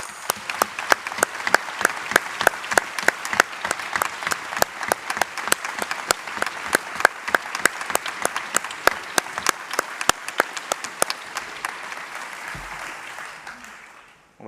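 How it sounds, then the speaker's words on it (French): Sustained, dense applause from a medical conference audience honoring newly completed doctoral theses in medicine, steady rapid clapping for over ten seconds before fading out near the end. "10 secondes d'applaudissements nourris pour le travail accompli jusqu'à l'obtention du titre de docteur en"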